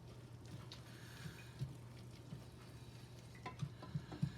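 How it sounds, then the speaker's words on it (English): Onions fry gently in butter in a pan for cream of mushroom soup, making a faint, quiet sizzle. A low steady hum sits underneath, and occasional soft utensil taps and stirs come near the end. "The onions are starting to go translucent in the butter."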